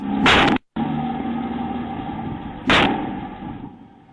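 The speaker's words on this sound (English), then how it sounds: "two shots can be heard coming from a nearby street" Two loud, sharp gunshots ring out from a nearby street, one early and one about two seconds later, each followed by a lingering echo over a steady background hum.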